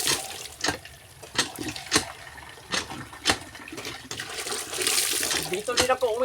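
Free, unmetered tap water running in a rural province, a continuous trickle and splash at a sink with sharp clanks and knocks punctuating it, while a voice talks over it.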